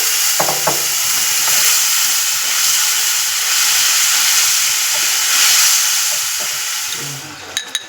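Spices with a spoonful of ginger paste and a splash of water sautéing in a pan for a soybean curry, a loud, steady hiss and sizzle with a few light utensil taps, ending in sharper clinks.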